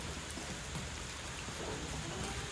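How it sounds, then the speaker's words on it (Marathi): Steady rain pouring onto and leaking through a goat shed roof, a dense, even hiss of water that stays constant for a few seconds with no voices. "पावसाने शेडमधून सगळं पाणी सारखा सारखं गळत आहे"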